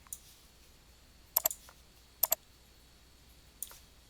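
Computer mouse clicks in medical imaging software, two quick double clicks a second apart and a fainter single click later, close and crisp against a quiet background.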